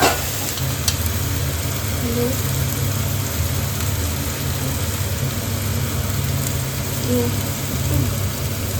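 Onion, ginger and garlic paste frying with spices in a pan, giving a steady dense sizzle throughout with faint stirring scrapes, close and fairly loud, with no voice.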